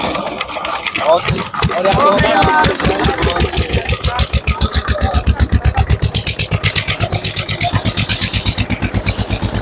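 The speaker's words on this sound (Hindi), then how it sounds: "हमारा इंजन स्टार्ट हो गया।" A farm vehicle engine catches after a failed first attempt, then settles into a steady, loud rhythmic idle close by, with people talking over it.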